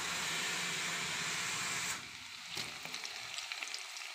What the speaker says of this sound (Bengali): এবার আমি সব এক এক করে সবজিগুলো সব দিয়ে দেবো।